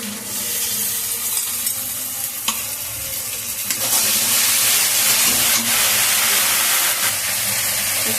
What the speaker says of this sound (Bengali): পেঁয়াজটা ভালো করে নিই, একটু হালকা লাল লাল ভাজা হবে